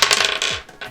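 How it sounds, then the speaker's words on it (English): Dice for the Catan board game clatter and rattle across a tabletop in a quick burst of hard knocks, then settle. "He rolls the dice again."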